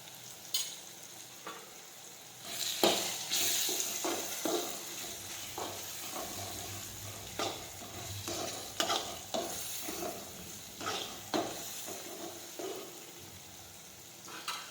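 Cumin seeds and Kashmiri chutney fry and sizzle in a pan, with repeated scraping stir strokes that rise over a steady crackle, close and moderately loud with no talk.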